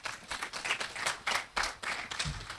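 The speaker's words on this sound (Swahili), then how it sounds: "Makofi kwetu jamani" Audience applause at a Mombasa business mapping campaign launch, a modest group clapping in uneven bursts, fairly faint and close with no talk over it.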